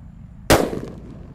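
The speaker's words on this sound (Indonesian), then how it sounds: "Lanjut di sini ada mercon thunder guys" A 'Thunder' firecracker goes off outdoors with a single sharp, loud bang. The blast decays quickly into a short fading rumble.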